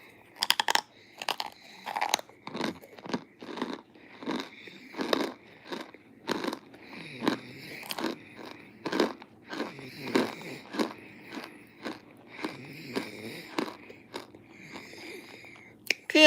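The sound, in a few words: crunchy food being chewed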